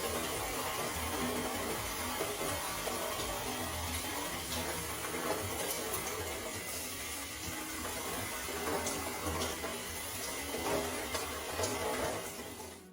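Shower water runs steadily while natural Type 4 hair is rinsed, a continuous close hiss and splatter with faint shifting gurgles throughout and no talking.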